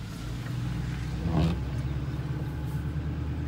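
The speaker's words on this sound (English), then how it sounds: "Some oncoming traffic." Oncoming cars pass a moving vehicle on a road beside lawns, a steady low road and engine hum with one brief swelling whoosh of a car going by midway.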